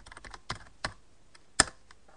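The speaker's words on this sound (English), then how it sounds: "now I've just got to put in my password." A password is typed on a computer keyboard, a few sharp separate key clicks at an uneven pace, close and quiet with no voice.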